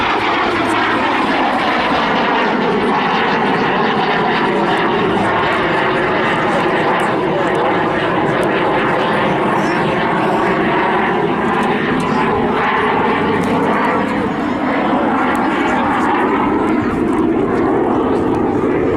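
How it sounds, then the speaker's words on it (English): A BAC Strikemaster jet performs a flying display at Southport Airshow, its engine roar sustained and loud with a slowly shifting, sweeping tone, while a commentator talks over it. "Very dynamic, showing off the aircraft beautifully for the audience here."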